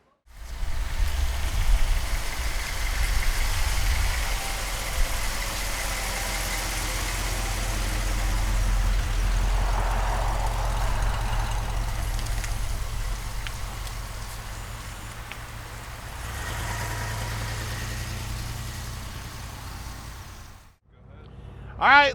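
A 1957 Ford Thunderbird idles with a steady, deep low rumble under a broad, hissing wash of noise. It holds evenly throughout and cuts off briefly near the end.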